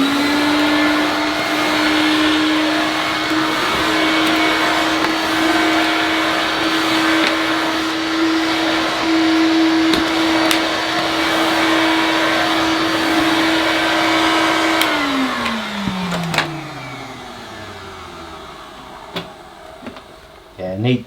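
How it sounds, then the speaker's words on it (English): A vintage Hoover 825 vacuum cleaner runs on a rug with a loud steady motor whine and airy rush for about fifteen seconds, then winds down in pitch as it switches off, leaving faint clicks and handling noise. "Let's see if it'll pick anything up from this rug."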